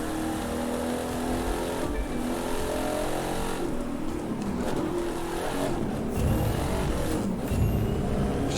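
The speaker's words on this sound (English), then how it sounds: "Just throw it in 4th and just accelerate right back up to 240." In The Crew 2, a race car in 4th gear accelerates back up to speed, its engine droning steadily and rising in pitch with a continuous rough roar, close and constant.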